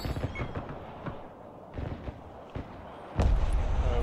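Gunfire and explosions in the military strategy video game Broken Arrow, with several sharp reports spaced through the clip and a heavier, louder blast near the end.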